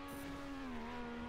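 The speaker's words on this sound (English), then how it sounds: "the beautiful engine sound as well" A steady, droning rally car engine in the video game TrackMania hums at a constant pitch, smooth and synthetic-sounding, with no other sounds.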